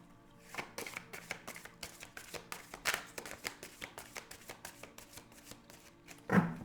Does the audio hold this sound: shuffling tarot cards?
yes